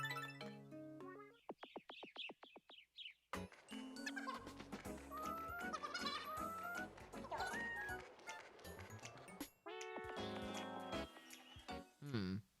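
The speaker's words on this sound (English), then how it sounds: "Look, a sheep." Musical in-game sheep bleats from Miitopia, a run of short wavering cries over bright chiptune-like backing music, steady and fairly loud throughout.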